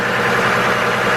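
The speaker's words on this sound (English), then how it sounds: "I'm gonna listen to the way the engine's running right now" A 2002 GMC Envoy engine idles rough with a cylinder 3 misfire, a steady close mechanical rumble with uneven knocking and no one speaking.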